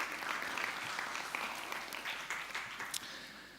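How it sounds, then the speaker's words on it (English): At WordCamp Europe 2023, a conference audience gives a round of applause, a steady wash of many hands clapping from mid-distance that slowly thins toward the end. "So big, huge round of applause to Barn2"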